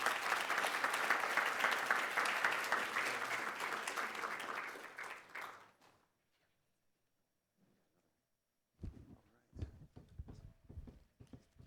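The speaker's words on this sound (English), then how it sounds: "Big round of applause, guys." Summit audience at a healthcare innovation event applauding loudly for about five seconds before the clapping fades out; after a short silence, a voice speaks.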